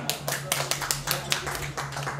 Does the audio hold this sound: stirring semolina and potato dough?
no